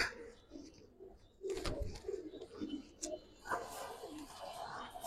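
Giribaz and coloring pigeons coo repeatedly inside a loft, several birds overlapping in soft, low throaty bursts that swell and fade, fairly close and moderately loud, with a flutter of movement between calls.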